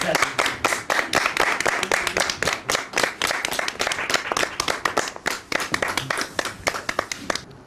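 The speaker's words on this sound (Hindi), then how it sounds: "तालियां होनी चाहिए बहुत खूबसूरत" A TV contest show audience gives lively applause with distinct, rhythmic hand claps, loud and close, continuing steadily for several seconds before easing off.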